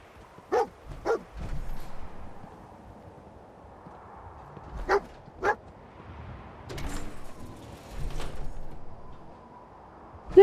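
Dogmeat, the dog companion in the video game Fallout 4, barks in several sharp separate woofs, a pair near the start and more spread through the middle, loud and close over a quiet game background.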